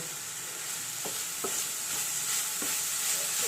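Mustard seeds and onion fry in a pan in a home kitchen, giving a steady, close sizzle with a few sharp pops and stirring scrapes, and no voices.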